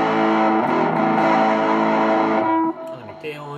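Distorted electric guitar on its front (neck) pickup with a warm, bass-heavy tone, strummed chord ringing steadily for a few seconds before cutting off into quieter string noise.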